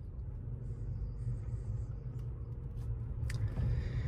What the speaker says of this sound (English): We're gonna go ahead and pull out of this gas station and onto a, you know, a 40 mile an hour road.